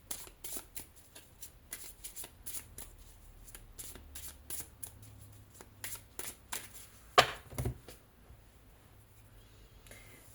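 Tarot cards are shuffled by hand in a rapid series of crisp riffling bursts and soft slides, close and quiet with no talking.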